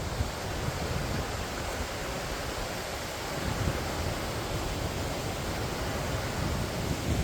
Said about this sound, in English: And I thought it's just the sound of the stream.